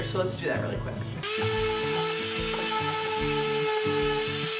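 Power sander running along the end edges of wood for a DIY wood-and-metal kid's play table, a steady whining motor drone that shifts pitch as it works, starting after a brief bit of talk.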